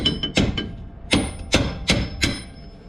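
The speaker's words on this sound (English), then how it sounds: "and then I'm gonna start to pound it through" A hammer pounds a bolt through a Lexus suspension mount during a lowering job, about seven sharp metallic strikes in an uneven rhythm, loud and close with no talking.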